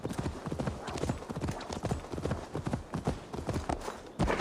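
Horse hooves galloping in Assassin's Creed Valhalla, a fast, steady clip-clop rhythm that runs close and loud throughout, with a faint snort or whinny mixed in.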